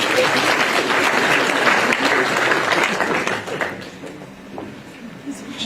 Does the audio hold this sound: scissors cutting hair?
no